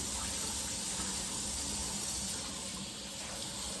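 Tap water runs into a kitchen sink over cooked rutabagas being rinsed, a constant close splashing hiss that stays loud and even, with no talking.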